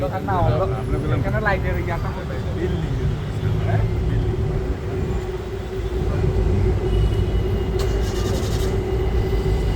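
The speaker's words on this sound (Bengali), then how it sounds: "ওই যে এমআরটি ট্রেন যাচ্ছে।" An MRT train rumbles past on the elevated line near Petaling Street in Kuala Lumpur's Chinatown, a steady mid-distance roar mixed with street traffic, with people talking over it.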